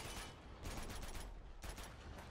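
Gunfire in Uncharted 2 as the player shoots at gears, a dense, continuous rattle of shots with louder bursts near the start, middle and end, and no talking.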